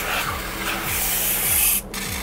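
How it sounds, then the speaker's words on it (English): Cleaning a ductless wall unit's tray and blowing through its drain, a steady close hissing rush with rhythmic rubbing pulses underneath, continuous throughout. "And here I'm just cleaning the tray, and I'll blow through the drain as well."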